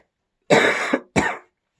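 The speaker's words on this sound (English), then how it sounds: "I've been coughing and sneezing like crazy" Two harsh coughs close by, the first longer and raspier, the second short, separated by a brief pause.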